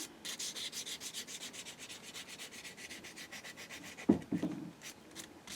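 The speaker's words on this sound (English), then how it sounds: "the 400 will help get rid of all the 60 grits" Steady, rhythmic back-and-forth strokes of 400 grit sandpaper rub across a 3D printed part, close and fairly quiet, with a brief knock near the end; nobody talks.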